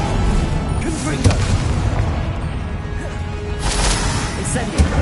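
Confringo fire-blast spell in the Hogwarts Legacy video game: a dense, rumbling booming barrage with sharp bursts near 1.3 and 4.8 seconds, loud and continuous throughout.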